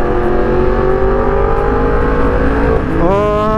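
A 2023 Yamaha R1M with a full exhaust roars loudly and continuously while accelerating in second gear, heard close up from the bike as its engine note climbs steadily and then jumps sharply upward near the end.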